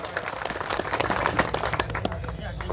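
An audience of farmers claps to welcome a sub-divisional magistrate, a dense patter of applause mixed with voices talking.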